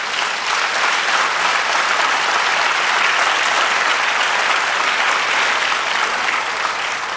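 A church congregation applauds, with dense, steady clapping from many hands that stays loud and even from start to finish.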